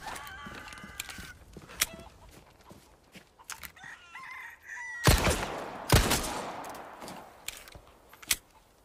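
Video-game chickens cluck and squawk in quick bursts, joined by sharp loud gunshots from a handgun partway through, with scattered clatter between.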